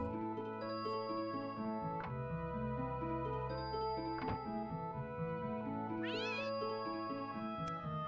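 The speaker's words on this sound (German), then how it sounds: "Und schon wieder eine Katze." A cat meows in the 16-bit video game Secret of Evermore, a short chirpy cry heard over a looping synthesized melody with occasional thunks and chimes.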